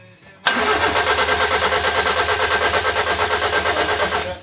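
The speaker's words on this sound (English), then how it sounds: "Let's just have another go on crank again." After a moment of quiet, a Mini car's engine cranks with a loud, rapid rhythmic chugging from the starter motor, steady and close, without firing up.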